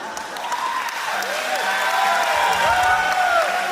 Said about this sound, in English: huge round of applause for Dhruva and Adya.